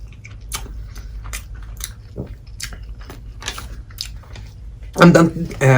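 Crunchy bites and chewing of an Indian wrap, a series of close, sharp mouth crunches spread over a few seconds, ending with a louder burst of eating noise or voice near the end.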